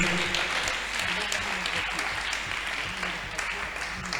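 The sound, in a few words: congregation applauding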